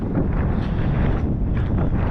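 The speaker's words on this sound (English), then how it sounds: "because it's quite windy" Steady, loud coastal wind at Berry Head near Brixham buffeting a microphone, a continuous low rumble with gusty swells and no voices.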